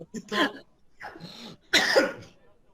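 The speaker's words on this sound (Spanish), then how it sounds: "Me dio un ataque de tos, espérame." Three harsh, rasping coughs in a row, close by, separated by short pauses, sounding strained like a coughing fit.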